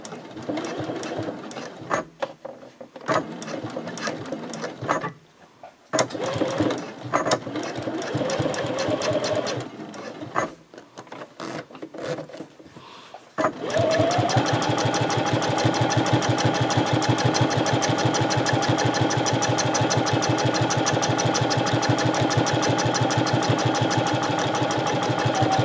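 A sewing machine top stitches 1/8 inch from the edge of a band on a fabric bag, with back stitching at both ends and a stitch length of 3.0. It starts with short stop-and-go bursts, then runs as a steady, close, continuous whir.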